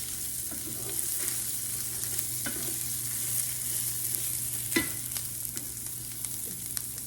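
Onions fry in a pan for Spanish rice, a steady sizzle with a low background hum, punctuated by occasional clicks and scrapes as they are stirred.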